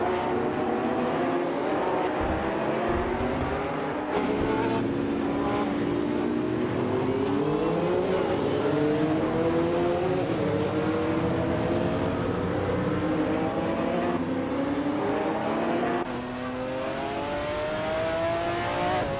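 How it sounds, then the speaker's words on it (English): A 1997 Panoz Esperante GTR-1 race car engine in a racing video game roars steadily and loudly throughout, with rising and falling revs through gear changes and other cars audible in the mix. "Maya is driving a 1997 Penos Esperante GTR 1"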